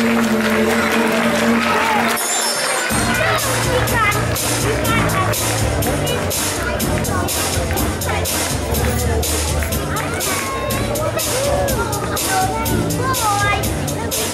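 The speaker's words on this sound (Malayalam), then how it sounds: "നമുക്ക് കൈയടിച്ച് പ്രോത്സാഹിപ്പിക്കാം" Sustained applause from an audience at an awards ceremony fills the space, steady clapping with crowd murmur and music continuing beneath it.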